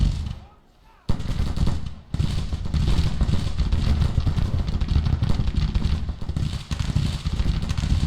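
Massed Civil War battle gunfire from the video game Grand Tactician: The Civil War. After a quiet start it breaks into a sustained rumble of crackling volleys and booms, dense and steady, with talk running over it.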